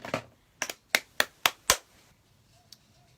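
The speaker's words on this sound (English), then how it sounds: "What am I doing? Clapping myself." A person clapping their own hands during a livestreamed rainbow eye makeup session: about five or six sharp, close claps in a quick, slightly uneven run, then quiet with a faint tap near the end.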